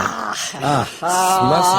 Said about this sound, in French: C'est un chien?